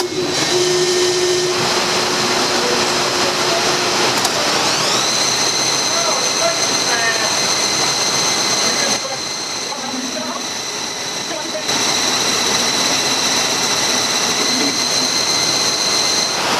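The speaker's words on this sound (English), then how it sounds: "So now we just got to turn this down on the lathe here real fast." A lathe turns down a length of steel pipe during a bearing repair on a large industrial machine, giving a loud, steady broadband roar with a high tonal whine that dips briefly midway before resuming.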